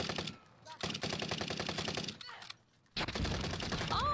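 Rapid bursts of AK rifle automatic fire in the Warzone video game, loud and dense with a short gap before the shooting resumes, a voice briefly mixed in.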